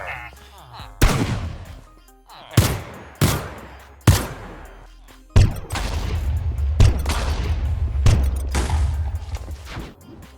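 Gunfire from the Mr. Crayfish gun mod in Minecraft: several sharp, separate shots with short ringing tails, followed by a faster, sustained burst of rapid fire that rumbles on to the end.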